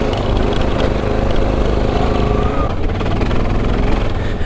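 A Honda dirt bike, a CRF300L or XR650L, is ridden along a forest trail in second gear, its engine droning loud and steady close to the rider, with wind rush throughout.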